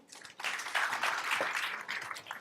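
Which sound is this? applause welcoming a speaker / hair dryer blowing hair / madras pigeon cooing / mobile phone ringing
applause welcoming a speaker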